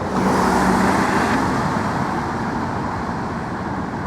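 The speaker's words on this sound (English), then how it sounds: "Speaking of trucks, here comes one." A truck drives along a narrow one-way street beneath a low railroad bridge in Durham, giving a steady close engine and road rumble that slowly fades slightly.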